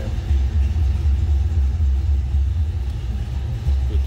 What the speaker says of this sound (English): Hear that or the rumble of the engine.